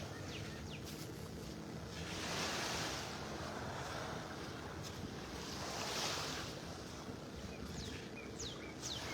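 Gulf waves washing onto a North Naples, Florida beach on a morning walk: a steady surf roar that swells twice in soft surges, with wind rumbling on the microphone and no talking.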